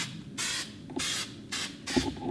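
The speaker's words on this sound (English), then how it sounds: "I'm actually going to spray the silicone on my..." Silicone release spray is sprayed onto a silicone mold in four short hissing bursts, evenly spaced and close, with quiet pauses between them.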